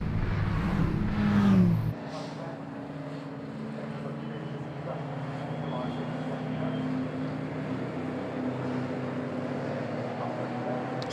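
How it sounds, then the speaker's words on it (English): Pre-1966 touring cars, including a Ford Mustang and a Ford Cortina, race through Redgate Corner with a steady, loud roar of engines. A heavier surge in the first couple of seconds gives way to a continuous drone of passing cars. "So there the cars turning now up through Redgate Corner"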